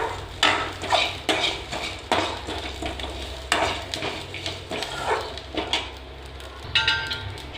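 Poppy seeds and whole spices such as peppercorns being stirred and sautéed in a pan over a low flame for chicken gravy, with repeated close scraping and clinking of a spoon against the metal pan and a soft sizzle underneath.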